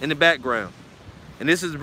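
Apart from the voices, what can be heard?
No everyday noises stand out.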